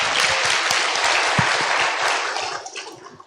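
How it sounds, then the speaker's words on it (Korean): A lecture audience breaks into loud sustained applause, many hands clapping densely and close, then thinning and fading out over the last second. "박수 부탁드리겠습니다"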